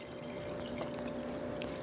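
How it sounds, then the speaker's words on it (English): Herb tea concentrate pours from a narrow-mouthed bottle in a thin, steady stream, with soft trickling and a few small drips close by, fairly quiet and unaccompanied. "It always is easier when you have a narrow mouth to pour out of the container."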